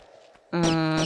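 A second rat scurrying in the 1996 Tomb Raider game, first a faint rustle, then a sudden loud, sustained squealing cry that holds steady for about half a second before fading.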